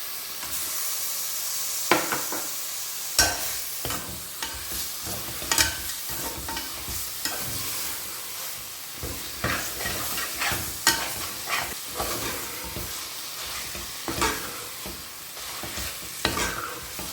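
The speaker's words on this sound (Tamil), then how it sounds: "மட்டன் கொஞ்சம் நல்லா வதங்கட்டும்" Pieces of mutton sautéing in a pan for a mutton gravy, a steady close sizzle broken by irregular scraping stir strokes of a spatula throughout, with no talking.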